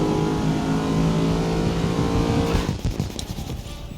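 A race car engine in the video game GRID (2019) revs loudly and steadily, then sputters into rough, choppy bursts as it loses pace, close and alone without talk.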